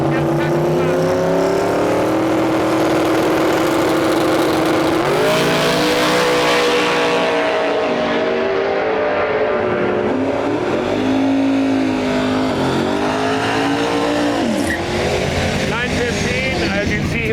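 A 1600 hp twin-turbo Mustang makes a drag-racing pass at a drag strip event. The engine roars loud and close for about seventeen seconds, its pitch climbing and falling, while a voice talks over it.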